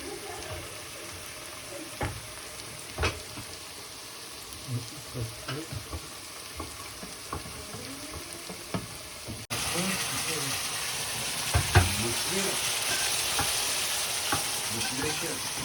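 Onions, paprika, capsicum, garlic and tomato puree frying in oil, a continuous sizzle with occasional stirring knocks that grows noticeably louder and hissier partway through, voices talking over it.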